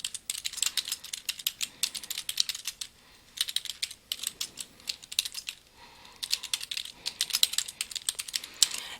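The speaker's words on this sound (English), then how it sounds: "So, using my notes, I can type information." Fast typing on a computer keyboard, sharp clustered clicks in bursts with brief pauses between them, close and fairly quiet, with no talking.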